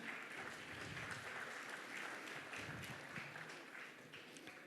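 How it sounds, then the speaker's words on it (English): Audience applause at a spiritual conference fills the hall, a dense, steady wash of many hands clapping throughout, fairly loud and continuous with no speech over it. "you can clap."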